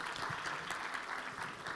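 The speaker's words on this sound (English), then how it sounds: "Let's give His Excellency a warm round of applause yet again." Warm applause from a large audience at the Kenya International Investment Conference 2026, a soft, continuous, distant-sounding wash of clapping with no speech over it.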